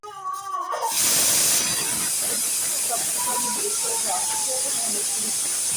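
Loud, continuous steam hiss from a pressure cooker used for a dhaba-style lobia masala curry, rushing steadily after a brief buildup and dominating throughout.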